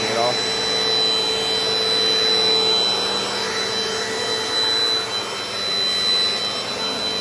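A Dirt Devil Dynamite Plus vacuum cleaner runs steadily, a loud continuous whirring hum with a high whine, close by and unbroken for several seconds.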